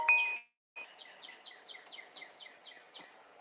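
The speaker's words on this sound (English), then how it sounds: "You might be able to hear some of the birds." Small birds chirp in quick repeated notes, a series of bright tweets close by in a quiet outdoor setting.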